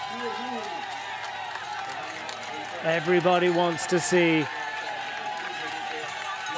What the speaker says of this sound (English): Fabulous crowds here for the first stage of Tour de Suisse.